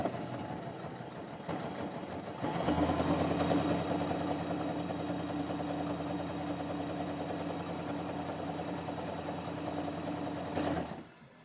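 A sewing machine stitches an appliqué, a steady rapid mechanical whirring with fast needle clatter that starts after a short pause and runs close and even for several seconds before stopping.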